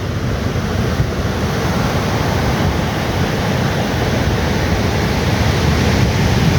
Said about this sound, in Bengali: সমুদ্রের গর্জন খুবই বেশি